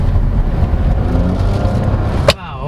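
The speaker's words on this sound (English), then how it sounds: "The 3-cylinder actually sounds good" A turbocharged three-cylinder 2024 Nissan Almera VL Turbo CVT sedan driving over uneven pavement, heard from inside as a steady loud low engine and road rumble that cuts off abruptly near the end.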